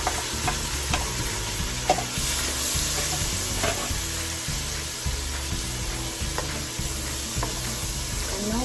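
Purple onion, tomato, scotch bonnet pepper, pimento, scallion and red and yellow sweet peppers sizzle and fry steadily in a pot for Jamaican coconut curry shrimp, with occasional stirring scrapes and clicks over the continuous hiss.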